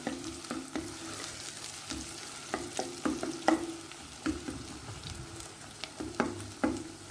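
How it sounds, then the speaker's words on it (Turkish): Sautéing peppers and onions in a pan: a steady sizzle with scattered sharp taps and scrapes of a utensil stirring, close and fairly quiet, no voices. "Şimdi soğanlarla beraber biraz soteleyelim bunları."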